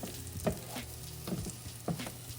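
French toast frying in butter and oil in a pan gives a steady close sizzle, with three soft scraping or flipping touches spaced through it and no talk over it.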